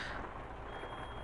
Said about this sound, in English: now it's beeping at us